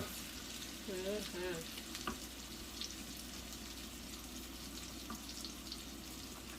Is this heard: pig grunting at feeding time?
no